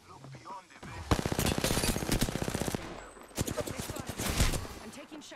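Rapid automatic gunfire from the Apex Legends battle royale video game, fired in two dense sustained bursts of closely spaced shots, loud and near, with a short pause between them and voices talking over parts of it.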